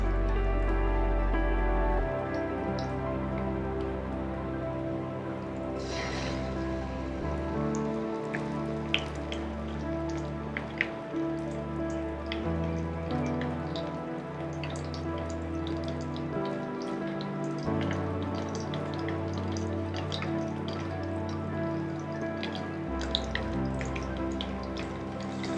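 Pumpkin-leaf-wrapped rice pitha frying in hot oil gives a continuous, moderately loud sizzle with scattered popping drips throughout, with no talking.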